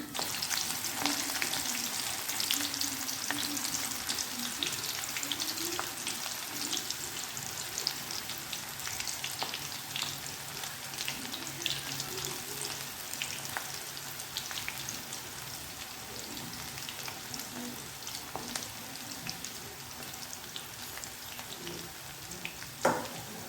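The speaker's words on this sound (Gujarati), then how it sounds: "હવે આપણે એક એક રીંગ આવી રીતે ઉમેરવાની છે." Steady, loud sizzling and crackling of chili rings frying in hot oil as bhajiya, continuous throughout with small popping bursts and no voices.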